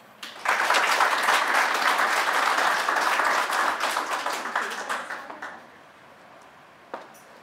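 Audience applause welcoming Minister of State for Tourism and Small Business Naomi Yamamoto at a networking luncheon, a dense sustained round of clapping that thins out and fades after about five seconds, with one late clap.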